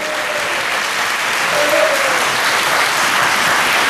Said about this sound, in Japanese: 今一度盛大な拍手を。